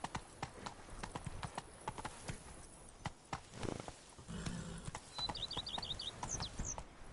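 The horse Roach gallops in The Witcher 3, hooves clip-clopping in a fast steady rhythm, close and clear, with faint birdsong toward the end.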